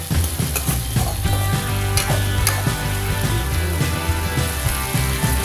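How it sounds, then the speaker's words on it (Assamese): Fish heads fry in hot oil in a pan for murighonto, with a loud, continuous sizzle close by. Rhythmic scraping and knocks from stirring repeat throughout. "এতিয়া ভালকৈ ফ্ৰাই কৰি ল'ব লাগিব"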